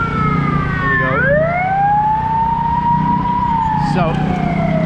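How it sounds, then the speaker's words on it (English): A private ambulance siren on a street in Phnom Penh, Cambodia, wailing loud and close with a rising and falling tone as it passes, over steady traffic rumble. "So that's a private ambulance there."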